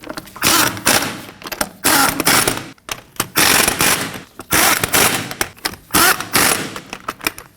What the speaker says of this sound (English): we'll snug those down in a star pattern